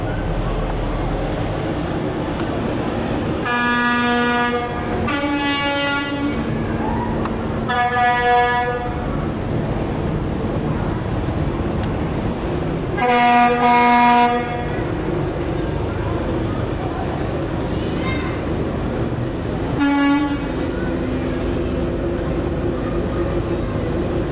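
Kenworth semi trucks in the Tri-Rivers Fair parade in Salina, Kansas, blast loud air horns in several long harmonic bursts spaced over steady crowd and street noise, with voices talking beneath.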